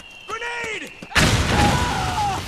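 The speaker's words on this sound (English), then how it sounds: "Who's launching these mortars?" A mortar round lands in Metal Gear Solid 4 with a sudden heavy boom and rumbling roar, right after a brief spoken line.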